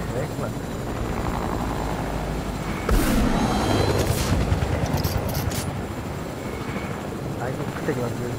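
Helicopter rotor and engine drone in the video game Fortnite, a steady mid-level whir running throughout with brief game gunfire bursts midway and people talking over it.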